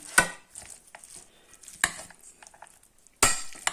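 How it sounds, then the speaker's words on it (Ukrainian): Sharp clinks and scrapes of a utensil against a bowl or pot while a salad of finely sliced radish is stirred, three distinct knocks spaced apart with softer scraping between, close and clear. "Перемішуємо."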